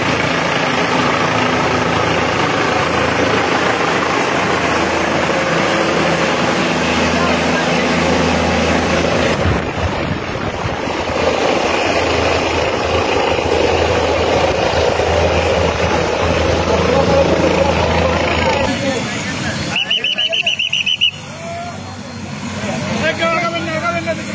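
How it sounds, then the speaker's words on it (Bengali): An army helicopter stands on a field with its engine idling, a loud continuous rumble and whine broken by abrupt shifts near the end, under steady talk. "হেলিকপ্টারটি কিন্তু দেশটির মাঠে অবস্থান করতে দেখা যাচ্ছে।"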